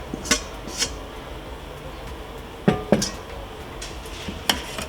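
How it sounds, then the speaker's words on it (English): A spoon knocks and scrapes against a pot while cornmeal with black beans is stirred, giving a few scattered clinks and taps close by, separated by quiet pauses. "Give it a quick stir."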